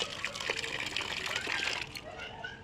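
Tap water runs and gushes steadily while mangoes are washed at home, a close, continuous splashing flow that eases near the end, with faint voices in the background.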